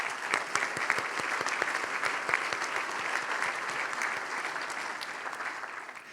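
Sustained applause from a large audience at a business celebration event, continuous dense clapping at moderate level that tapers slightly at the end.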